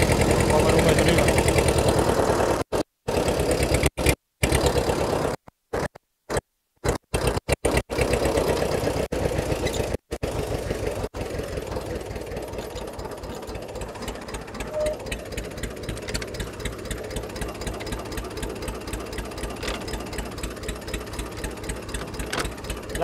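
A vehicle engine runs over a potato field during harvest, knocking rhythmically and close, with choppy dropouts early on before settling into a steady, pulsing idle-like drone.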